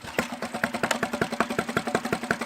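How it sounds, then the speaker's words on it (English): A powerboat engine idles steadily, with a fast, even puttering pulse at moderate loudness close by and no talk over it. "Start the engine as you would."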